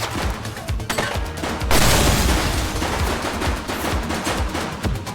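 Sustained automatic gunfire and bursts of shots from the police video game The Precinct, loud and close, with rapid rattling volleys and a denser flurry around the middle, no voices heard.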